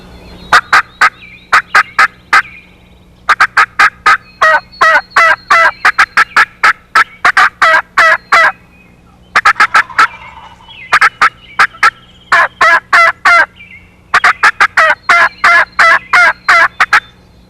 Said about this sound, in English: This is what cutting sounds like.